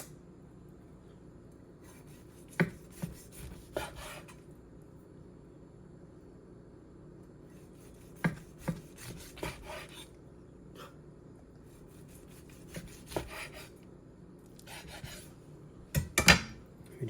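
Knife slicing through a reverse-seared ribeye steak, with a few soft rasping, scraping strokes in brief bursts separated by quiet stretches, close and fairly faint.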